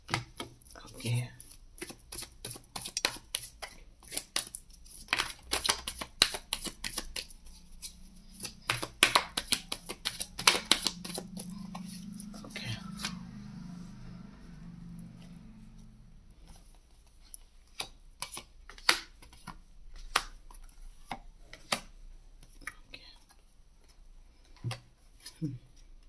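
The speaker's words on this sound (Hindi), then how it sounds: "इस कार्ड्स को डिस्क्राइब करने से पहले हम थोड़े से हमारे टैरो डेक से भी कुछ निकाल लेते हैं।" Tarot cards are shuffled and drawn from a deck close up, rapid papery riffles and snaps in clustered bursts, then scattered single card slides, with soft speech in between.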